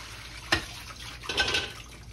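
Tap water runs over potatoes being rinsed in a kitchen sink for potato salad, heard as two short splashing bursts close by, with no talk.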